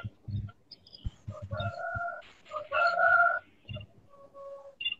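A rooster crows out on a poultry-keeping homestead, a loud, close, drawn-out call with clucks and fowl noises around it, while people talk nearby.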